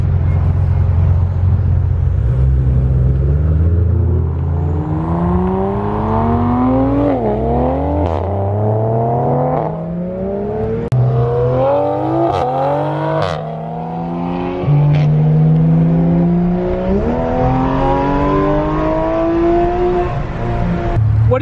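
A Porsche GT3 RS is driven hard, its engine revving loudly through repeated rising sweeps and gear changes over about twenty seconds, heard close and steady with no talk.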